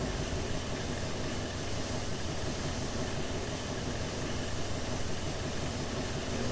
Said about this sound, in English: As you can hear, the sounds are a heavy improvement to the original model, as we now have fully custom sounds